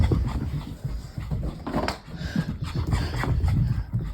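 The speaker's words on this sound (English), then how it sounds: "I got a dog." A dog pants and whimpers close up, steady rapid breathing with small whining cries running throughout without a break.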